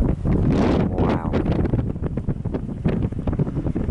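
Strong wind buffets the microphone outdoors near a mountain wildfire in Cyprus, a loud continuous roar with gusty surges and rumbling low-end bursts throughout.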